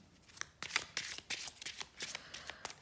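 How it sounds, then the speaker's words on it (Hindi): Tarot cards shuffle and get drawn from the deck in a quiet room, a close series of soft riffling flutters and papery snaps in an uneven rhythm. "कार्ड्स मैं ड्रॉ करूँगी"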